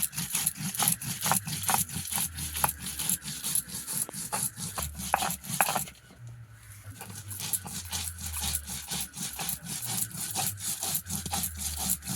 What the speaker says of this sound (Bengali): জিরে আর সর্ষে একসঙ্গে বেটে নেব